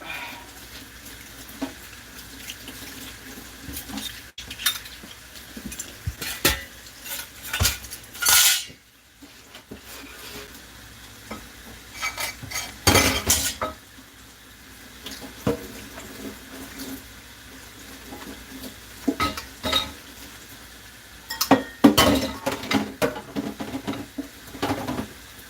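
Cups being hand-washed with Dawn dish soap and water, with intermittent splashing, wet rubbing and light clinks of dishware, moderately close and uneven, with no talk.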